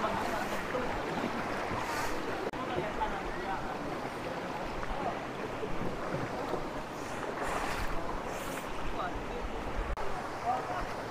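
A strong river current rushes and churns around someone wading across, close and steady, with wind buffeting the microphone and a voice heard now and then.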